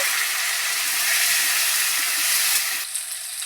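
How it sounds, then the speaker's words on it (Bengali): Chopped tomatoes fry with browned potatoes in a hot pan, a loud, steady hissing sizzle that drops abruptly near the end. "এবার আমি দিয়ে দিচ্ছি কেটে রাখা টমেটো দিয়ে কিছুক্ষণ আলুর সঙ্গে ভেজে নেব"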